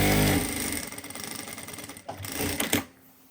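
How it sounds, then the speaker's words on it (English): A Jack A4F industrial electronic lockstitch sewing machine runs close by, a fast, even rattling stitch that slows near the end with a few mechanical clunks before stopping. "when we start sewing, the machine will automatically bar attack for us"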